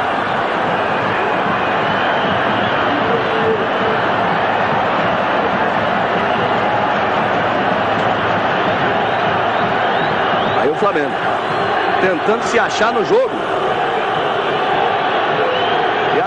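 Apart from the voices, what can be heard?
Grêmio fans cheering wildly at Estádio Olímpico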